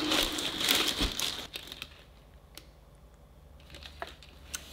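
Paper crinkling and rustling as an envelope is handled and opened, loud and busy for the first second and a half, then quieter scattered crinkles and taps close by, no talk.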